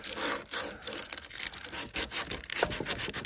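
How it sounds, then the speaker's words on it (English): Congealed grease is hand sanded with 60-grit sandpaper meant for an orbital sander, producing a continuous close, gritty scraping with an uneven back-and-forth rhythm. "So I'm just gonna start over using some 60 grit sandpaper."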